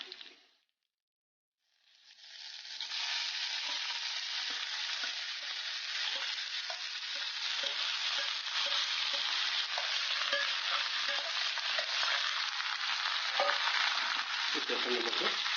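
Cooked tapioca tossed into hot oil for kappa upma, a brief sizzle, a silent gap, then a loud steady frying hiss with light scraping stirs, close up and without speech.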